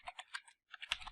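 Code is typed on a computer keyboard as a quick series of light, close key clicks in two short bursts separated by a brief pause, faint and with no talk.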